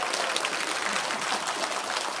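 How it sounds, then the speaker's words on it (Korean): An audience at a Korean pansori preservation society performance in Gwangju applauds, a short stretch of fairly faint, dense clapping. "박수 한번"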